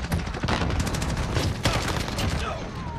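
Gunfire in Call of Duty Modern Warfare, rapid overlapping bursts of shots, loud and dense, coming in quick clusters of cracks over a busy battle background.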